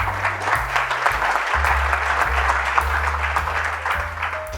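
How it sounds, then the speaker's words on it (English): A crowd at a building-science presentation gives a steady round of applause, a dense, continuous wash of clapping throughout, with a low sustained musical tone underneath. "You give yourselves a round of applause for just being good people"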